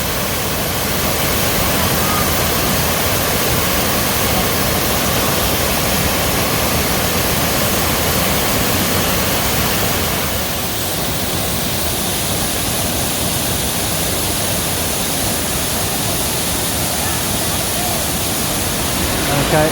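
A waterfall in the hills of Xaysomboun, Laos, gives a steady, dense roar that stays loud and unbroken throughout.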